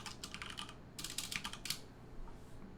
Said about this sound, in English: if I type in here pip list